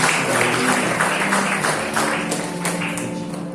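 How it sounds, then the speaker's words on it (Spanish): A church congregation claps together in a loud, continuous round of applause that tapers slightly toward the end, with no voices. "Aplauda al Señor,"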